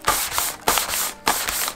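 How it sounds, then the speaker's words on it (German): A sanding block is rubbed along a wooden edge in three firm, evenly spaced strokes, each a loud, close, scratchy rasp with short pauses between. "Und im nächsten Schritt brauchen wir dann so einen Schleifklotz. Mit dem behandeln wir jetzt die Kante."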